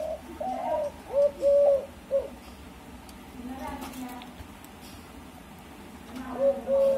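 Emerald dove cooing in a low, soft series of several short notes, faint and close, with background rustles and a pause before a final coo.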